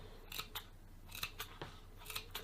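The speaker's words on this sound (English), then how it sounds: "I'm gonna keep using my fringe scissor, but again, you can just use your normal scissors and make the clips" Fringe scissors make a quick series of crisp snips while cutting small clips around the edge of a round fabric or card piece for a heart-shaped cartonnage box, faint and close with no talking.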